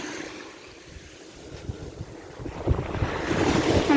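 Wind and surf at an ocean shore on a bright day, a steady broadband wash of wind buffeting the microphone with waves rolling in, growing louder and fuller toward the end; no one speaks.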